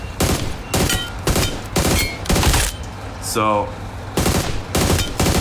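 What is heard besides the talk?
gunfire from PUBG Mobile, a video game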